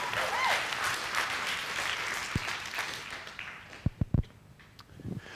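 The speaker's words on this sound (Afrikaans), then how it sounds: "Gee Jesus se hande klap." An audience applauds, a broad wash of clapping that gradually fades, followed by a few scattered loud thumps.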